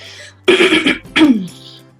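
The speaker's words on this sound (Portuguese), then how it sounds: "Eu tô com um pigarro bem chato, viu, gente?" Two loud, raspy throat clearings in quick succession, close up, with a brief pause between them.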